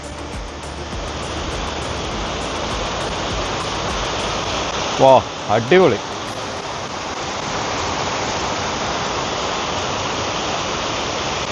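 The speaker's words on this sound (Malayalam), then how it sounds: "ബ്രിഡ്ജിൻ്റെ സൈഡിലായിട്ട് ചെറിയൊരു വെള്ളച്ചാട്ടം പോലെ കാണാൻ പറ്റുന്നുണ്ട്" Small waterfall beside a footbridge at Aira Force in the Lake District, a steady broadband rush of falling water throughout, with brief voices briefly exclaiming over it midway.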